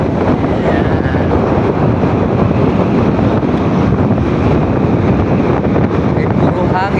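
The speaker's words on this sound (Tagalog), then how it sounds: "Ay, puro hangin." Strong wind buffeting an outdoor microphone on a roadside trip in Biliran, a loud, continuous roaring rumble that fills the whole clip and swamps everything else.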